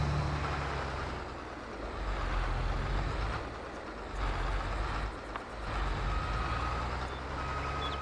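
Truck in a video game backing up toward a fifth wheel with a dolly, steady engine rumble under faint intermittent reversing beeps, no talk.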